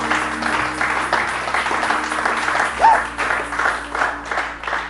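Congregation at a church service applauding the Lord, sustained broadband clapping from a crowd throughout, steady and fairly loud with faint voices mixed in.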